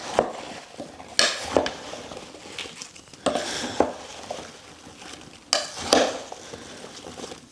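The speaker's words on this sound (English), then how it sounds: "I'm gonna give this a quick mix" Apple butter mixture for a keto, gluten-free recipe stirred in a pot, with intermittent scraping and clinking of a utensil against the pot sides in uneven bursts, moderately close and without talk.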